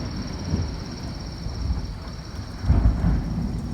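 Thunder from a severe storm overhead rolls in deep, booming rumbles that swell twice and peak near the end, with steady rain and faint insect chirps beneath and no speech.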